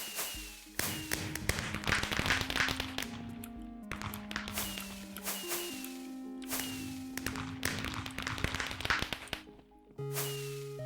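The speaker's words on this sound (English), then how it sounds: "I love fireworks." Fireworks in the video game Minecraft launch and burst repeatedly in sharp crackling pops and thumps over a steady background of tonal game music, with short pauses between clusters of explosions.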